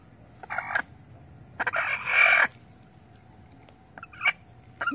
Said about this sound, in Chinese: 按推时鸡叫得特别厉害